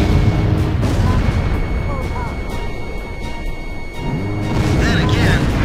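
Gunfire and explosions hit a civilian airport's freight terminal in the video game Ace Combat 5. Heavy booms and rumbling blasts roll continuously under loud, urgent radio chatter, and a metallic whine rises toward the end.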